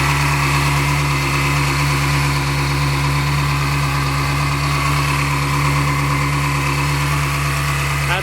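A Ferrari 360 Spider's engine idling close by, a steady loud drone with a deep constant hum, unchanging throughout.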